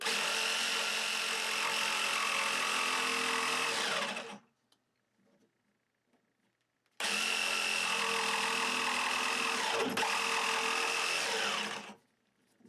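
A Ryobi P5231 jigsaw cuts through a 1 1/4 inch pine block in two loud, sustained rasping bursts of about four to five seconds each, separated by a quiet pause.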